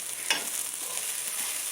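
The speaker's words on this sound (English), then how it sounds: "I'm just sauteing these up." Food sautés in a pan for a Mexican lasagna, a soft steady sizzle with a brief stir or scrape of the utensil near the start.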